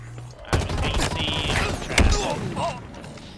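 Rapid gunfire in a Halo Infinite multiplayer Strongholds match, struck by incoming bullets, with sharp close bursts and impacts and game voices underneath.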